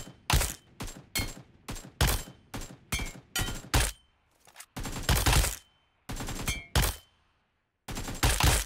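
AKM rifle fire in PUBG Mobile, loud close bursts of rapid shots in short clusters separated by brief pauses, with a few single shots mixed in.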